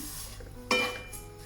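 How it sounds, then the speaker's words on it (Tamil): Dry oats are roasted and stirred in a pan over medium heat. A brief scraping clatter of the utensil against the pan rises over a quiet background. "இப்படி தொடர்ந்து வறுத்து கொண்டு இருக்கணும்."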